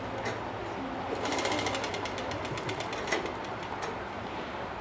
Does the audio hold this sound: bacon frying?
no